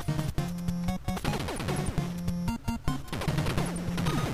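Rapid bursts of video game gunfire with sharp cracks and brief pauses, layered with loud game music and effects.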